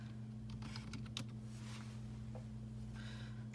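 A last name is typed on a computer keyboard in a school library checkout system, a quick burst of soft key clicks followed by a few scattered taps, faint over a steady electrical hum.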